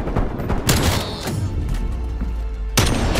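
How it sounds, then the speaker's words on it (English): Shotgun blasts in Call of Duty Black Ops Cold War on the Nuketown Holiday map: several loud, booming shots with ringing tails, fired in close succession right up front. "Ooh, the shotgun is nasty."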